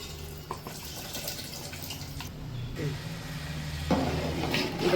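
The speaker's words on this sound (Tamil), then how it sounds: "இப்போ வந்து புளி எடுத்து ஊற்றிடலாம்." Tamarind water poured into a pot for a fish curry, a steady splashing, trickling flow running close by for the whole stretch and swelling louder near the end, with faint background noise.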